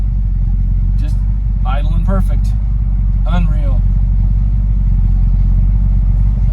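A 1971 Ford Torino GT convertible with a 429 Cobra Jet V8 and four-speed manual idles with a steady, close low rumble that runs throughout, while someone talks briefly over it.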